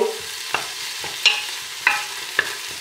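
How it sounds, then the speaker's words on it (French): Onion sweats in a pan for a savory vegetable and mint cake, a low steady sizzle broken by four or five sharp utensil taps and scrapes at irregular intervals. "on va commencer à faire suinter l'oignon"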